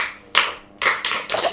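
An audience claps at a Yoruba storytelling event for a circumcised boy, several short bursts of hand claps in quick succession, fairly close and loud, with no talking.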